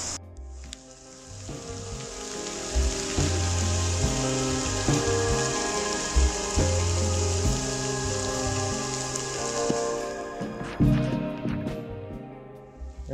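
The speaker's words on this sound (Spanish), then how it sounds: "Se ve súper, súper turbio, pero ahí obviamente está lloviendo" Steady rain falls near a river on a hike in Colombia's Cocora valley, a continuous hiss under low rumbling music-like tones throughout.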